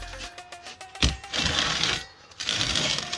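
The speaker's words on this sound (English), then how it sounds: "Welding the pipe." Welding along the seam of a metal pipe for a homemade EV car charger, a continuous crackling hiss broken by a brief pause, with a sharp tick near the start.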